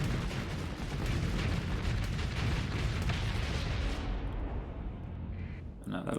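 Heavy blaster fire rattles without pause through a ship battle in the space combat game Starsector, a dense, loud wall of booming shots for about four seconds before the din thins and the upper noise drops away near the end.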